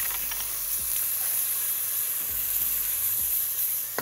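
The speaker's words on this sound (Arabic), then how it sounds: "اقوم نازل كده بالصلصه بتاعتي ونقلب." Tomato sauce hits a hot pan for a tagine base and sizzles loudly and steadily, with a few soft scrapes of stirring beneath the constant frying hiss and no voices.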